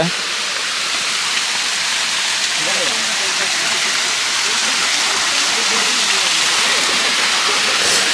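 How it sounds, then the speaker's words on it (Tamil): Waterfall at Kuttu Patti Falls near Natham, Dindigul, a loud broadband roar of falling water close by, steady throughout with no pauses. "பக்கத்தில் அந்த அருவியோட சவுண்டு காதை கிழிக்குது"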